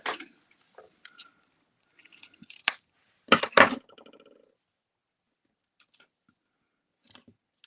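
Scissors snip through rainbow washi tape, a few sharp close crisp cuts with small rustles and taps, then near silence.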